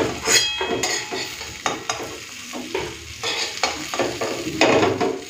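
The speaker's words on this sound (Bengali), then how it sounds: "বেশি ভাজবো না, হালকা ভেজে নিই।" Cauliflower and potato pieces fry lightly in a pan, a close bright sizzle broken by repeated scraping stirs and occasional metal clinks of the spatula against the pan.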